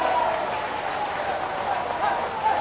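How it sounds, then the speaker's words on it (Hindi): A crowd at an Indian political rally with the Chief Minister and another politician clapping steadily throughout, a continuous wash of applause with a voice carrying over it. "ऐसी ताली बजाओ।"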